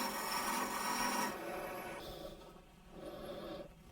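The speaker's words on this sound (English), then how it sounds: "I'm going to turn this. That's going to create a little bit of a burnishing on that wood" Wood lathe turning a small wooden box, a steady scraping, rasping cut against spinning wood that is louder at first, then eases into lighter, intermittent contact close by.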